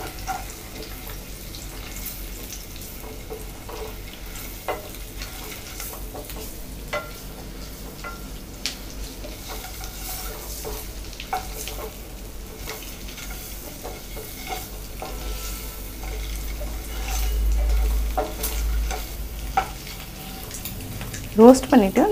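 Eggs roasting in masala in a frying pan, a continuous low sizzle broken by frequent scraping stirs of a spatula against the pan, with a few clatters near the end and no talk.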